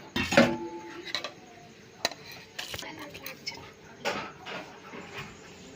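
Caramel poured into a metal pudding pan that is then swirled on a gas stove, giving sparse clinks and light metallic knocks close by, with a faint voice in the background.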